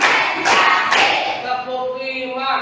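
Hands clap in unison in an Indonesian school classroom, a few sharp, loud group claps struck on a count, followed by a steady ringing tone.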